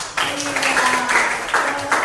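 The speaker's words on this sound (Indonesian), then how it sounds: "tepuk tangan buat Putri" A classroom of students clapping for a classmate named Putri, a dense burst of applause running steadily throughout, with a teacher's voice and background talk mixed in.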